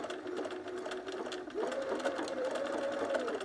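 A cover stitch sewing machine runs steadily while stitching picot elastic on underwear, a close, even mechanical hum that briefly dips and then resumes with a slightly higher, strained whir.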